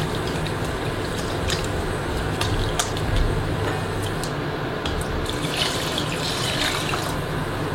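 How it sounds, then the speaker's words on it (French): Beef broth is poured into a hot pan and stirred, giving a steady wet pouring rush with scattered drips and splashes. "il ne nous reste plus qu'à mouiller avec 1 litre de bouillon"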